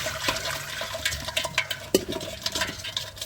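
Hot water poured over large fresh crabs, giving a continuous watery splashing and gurgling with a few sharper splashes, fairly close and with no voices.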